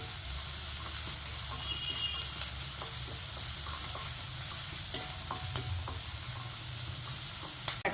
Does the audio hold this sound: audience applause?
no